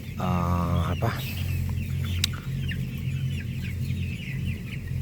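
Many chickens cluck and chatter together in a rack-cage coop, with a steady low hum of machinery or fans running underneath.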